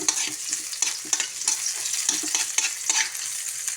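Onions sautéing in a little oil for a squash and string bean stir-fry with shrimp, a close crackling sizzle broken by repeated scraping stirs.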